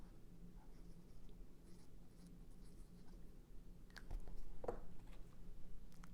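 A marker or pen scratching out a plant label for red leaf lettuce, faint close-up strokes over a quiet background with a few sharper scrapes near the end.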